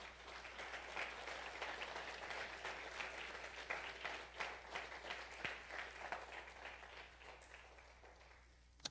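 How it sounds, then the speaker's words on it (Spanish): A church congregation breaks into sustained applause as an offering of praise, a dense wash of many hands clapping steadily for several seconds before tapering off near the end. "Vamos a darle una ofrenda de aplausos a nuestro Señor."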